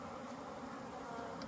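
Honey bees buzzing around a strong hive in a small box during an inspection, a faint, steady swarm drone with no pauses.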